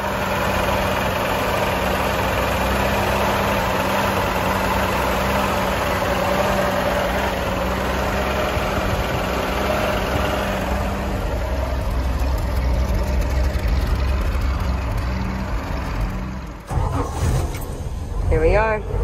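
A 1976 Toyota Land Cruiser FJ40 engine idles with a steady low rumble and vibration, close and even for most of the stretch, then is broken by a brief shuffle and handling noise near the end.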